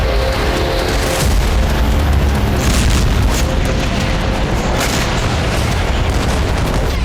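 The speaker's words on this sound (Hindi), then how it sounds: "हर घंटे नया बारूदी धमाका हो रहा है" Explosive blasts from weapons testing in an Arab region: dense, continuous rumbling booms and crackling bursts that overlap loudly for the whole stretch, with no voices.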